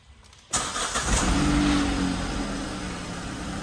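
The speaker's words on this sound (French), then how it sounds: "Je viens de démarrer le V12" A V12 car engine cranks briefly and catches, bursting into a loud, close roar that settles into a steady, rumbling idle.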